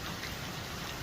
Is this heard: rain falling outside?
yes